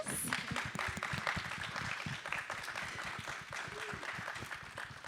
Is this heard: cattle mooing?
no